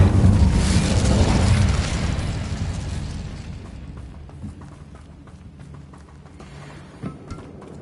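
A burst of fire from the Incendio spell in Hogwarts Legacy, a loud whooshing blast at the start that rolls off into a fading rumble with a few small pops near the end.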